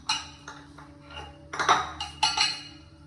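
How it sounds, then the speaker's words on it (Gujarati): Oats go into a pot of heated milk with clinks of metal on the pot, a few light taps and scrapes that are close and clear, with no talking. "હવે હું આમાં ઓટ્સ નાખી દઉં ઓટ્સ બનાવવા માટે."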